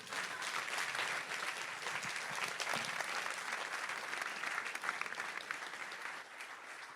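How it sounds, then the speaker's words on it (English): Steady audience applause at an art and science talk during Zurich Art Weekend, a continuous wash of many hands clapping, fairly faint and distant, tapering slightly at the end. "let's give them a big round of applause."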